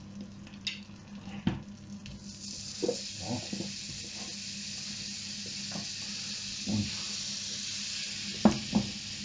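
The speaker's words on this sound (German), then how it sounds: "jetzt geben wir wieder ein Stückchen Butter in der Pfanne" Steady sizzling of butter melting in a hot frying pan, with occasional clinks and scrapes from a utensil and a brief word in German spoken over it.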